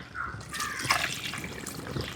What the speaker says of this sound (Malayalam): വെള്ളം ഇപ്പുറത്ത് ചൂടാക്കാൻ വെച്ചിട്ടുണ്ടായിരുന്നു. മീനിലേക്ക് ഒഴിക്കാൻ വേണ്ടിയിട്ട്.